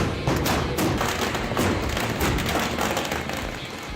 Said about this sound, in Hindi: ताबड़तोड़ गोलियां चल रही हैं। एक दो नहीं, दर्जनों बंदूक आग उगल रही हैं।